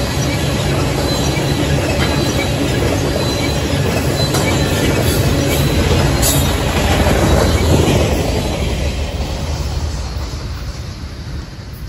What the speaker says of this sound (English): an as-needed loaded ethanol train that comes off of the CPKC Railroad in Bensenville, Illinois, and goes all the way down to Charlotte, North Carolina